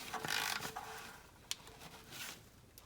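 An oil filter cap on a 3rd-gen Toyota RAV4 being snugged up by hand or tool, giving short close mechanical creaks and a sharp click against a faint background.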